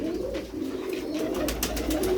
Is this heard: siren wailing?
no